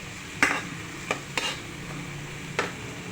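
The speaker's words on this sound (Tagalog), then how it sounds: "Basta po, pakagisa po natin mabuti yung kamatis." Tomatoes being sautéed in a pan at medium heat for squid with tomatoes, a soft steady sizzle broken by four sharp scraping clinks of the spoon stirring against the pan.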